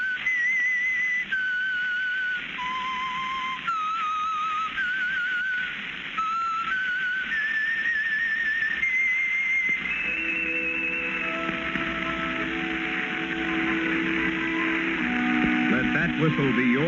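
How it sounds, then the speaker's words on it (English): Whistled theme signal of The Whistler, an old-time radio drama sponsored by Signal Oil: a lone melodic whistle of clear sustained notes, then an orchestral sting swelling in under it, loud and close. "Whistle be your signal for the Signal Oil program, The Whistler"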